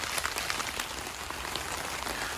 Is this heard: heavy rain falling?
yes